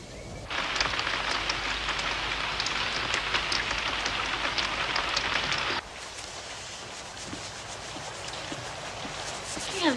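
Steady rain falling, a dense hiss of drops that runs loud and constant, then drops abruptly to a softer patter partway through, with no voices.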